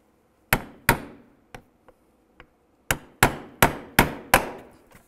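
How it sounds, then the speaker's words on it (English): Sharp metal hammer strikes on a punch, driving out the center of a rivet on a 2015-2020 Cadillac Escalade front bumper; about ten close, loud hits in two bursts with a few lighter taps between. "For the rivet, I'm just gonna punch out the center first."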